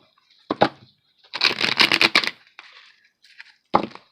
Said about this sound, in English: we're going to shuffle the Revelations Tarot